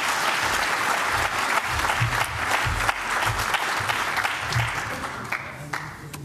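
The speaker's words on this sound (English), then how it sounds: "But quick round of applause just for the missing." Sustained applause from a conference audience at a hacker-congress lightning talk session, dense steady clapping filling the whole stretch at a fairly loud, even level with a faint crowd murmur beneath.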